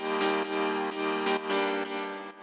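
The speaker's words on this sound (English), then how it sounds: "And the piano layer sounds like this" Piano chord layer from an emotional progressive house track, steady sustained chords with several soft re-struck attacks across a couple of seconds, full and warm, alone without any voices.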